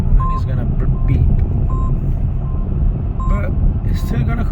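Polestar 2 electric car sounding its hands-off steering warning, a few short beeps repeating during driving, under road rumble and steady cabin noise while a person talks.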